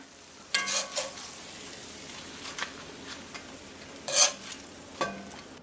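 Squash blossoms frying in a cast iron pan with a continuous low sizzle, broken by several scattered scrapes and clinks of a utensil in the pan, nearby and with no voices.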